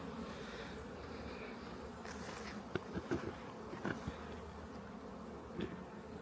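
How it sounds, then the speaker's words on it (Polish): A steady drone of a swarm of honeybees buzzing all around a crowded hive, with a few louder close passes and faint handling clicks. "pełno pszczoły"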